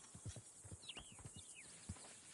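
Horse hooves clip-clop softly on the ground in the Red Dead Redemption 2 game world, a faint uneven patter of steps with a brief whinny-like squeal partway through.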